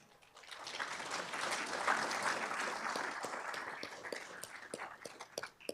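An audience at a city's State of the City event breaks into applause, a dense wash of clapping that swells and then gradually thins out into scattered claps.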